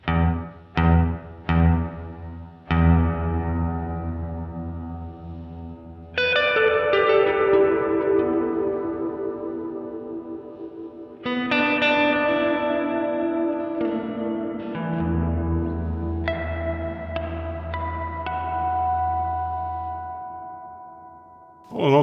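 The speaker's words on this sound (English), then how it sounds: "All quite nice, room reverb." Guitar through a NUX MG-300 small-room reverb: notes and chords ring out, each attack followed by a short, natural reverberant tail; sparse plucks first, then sustained strummed chords.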